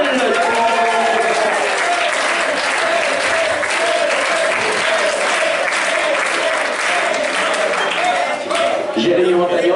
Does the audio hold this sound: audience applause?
yes